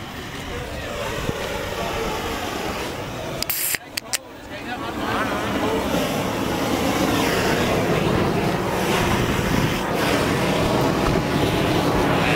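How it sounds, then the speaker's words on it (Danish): A Fiat 411 R tractor engine runs at full throttle outdoors, a steady loud roar that dips briefly near the middle amid a few sharp clatters, then swells back and holds strong, with voices talking over it. "Og Henning, giv fuld gas!"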